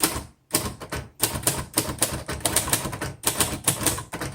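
Rapid keystrokes clatter on a 1961 Royal Futura 800 manual typewriter, near and loud, in dense bursts with one brief pause early on, without talk.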